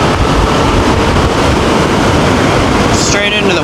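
Heavy wind buffeting a microphone while riding a Teverun Fighter Supreme 7260r electric scooter straight into a headwind, a loud continuous roar with a brief faint high whine near the end.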